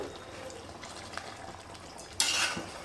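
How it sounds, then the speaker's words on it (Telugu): Water splashes briefly into a pan of gongura chicken near the end, a short bright pour after quiet kitchen background noise. "ముక్క ఉడకడానికి మాత్రమే వాటర్ వేస్తున్నానండి"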